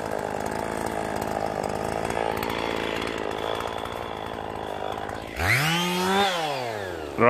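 A Husqvarna chainsaw that had sat unused for half a year idles with a steady buzzing drone, then revs up sharply near the end into a loud, rising and falling whine.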